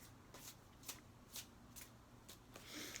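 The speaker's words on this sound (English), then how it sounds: "when I take up the tarot cards, the whole table shakes" Tarot cards picked up and handled on a table, giving several soft, brief riffling rustles at an uneven rhythm. The sound is faint and close, with no talking.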